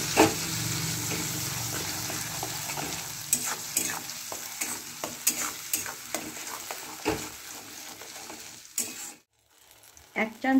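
Ground onion paste frying in a pan gives a dense, steady sizzle broken by frequent scraping stirs. The sound is close and continuous before a brief near-silent gap, then picks up again.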